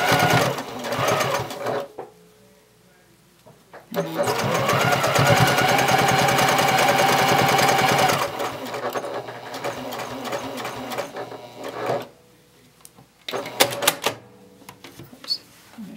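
A sewing machine stitches the quarter-inch seam of a quilted tote bag in several close, loud bursts of rapid mechanical clatter separated by quiet pauses, with light handling noises in between.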